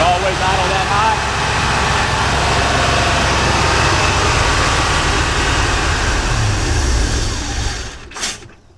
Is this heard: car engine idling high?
yes